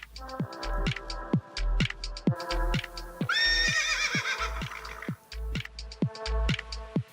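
A horse whinnies loudly mid-clip over steady, rhythmic hoofbeats and heavy thumps, with short repeated clicking sounds throughout, in the video game Star Stable.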